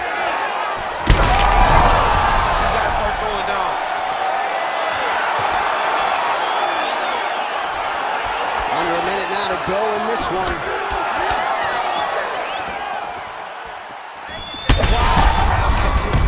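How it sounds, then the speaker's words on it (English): Heavy punches and strikes in an EA Sports UFC 5 bout between Umar Nurmagomedov and Frankie Edgar thud loudly over a constant roaring arena crowd, with sharp impacts near the start and end while a commentator talks over them. "Crowd continues to sway with every huge shot being landed"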